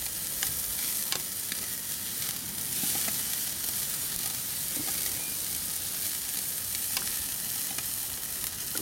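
Marinated meat sizzles on a very hot gas kettle grill, a steady close hiss and crackle with occasional sharp pops and ticks throughout.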